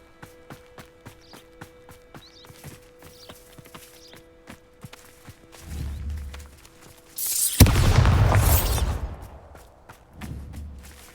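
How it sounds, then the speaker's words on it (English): Bombarda blasting spell from Hogwarts Legacy: a sudden loud, broadband explosive burst that rumbles and crackles for about a second before fading, followed by a quieter low thump, with footsteps and game ambience before it. "Bombarda."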